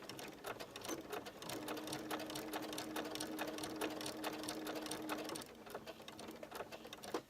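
A sewing machine stitches a triangle for a quilt block, a quiet, steady run of rapid mechanical clicks that holds for about five seconds, then slows into a few softer stitches.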